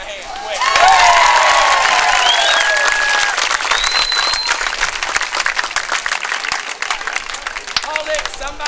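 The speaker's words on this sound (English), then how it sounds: "Give him a hand, quick." An outdoor audience applauds a Key West street entertainer with loud, dense clapping that swells after a second and holds steady, with some cheering and whistles mixed in, while voices are heard.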